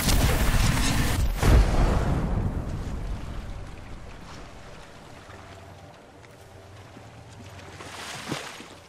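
Grenade explosion in Apex Legends, a loud sudden boom with a burst of debris and rumble that slowly fades into a quieter game background, ending with a faint thud.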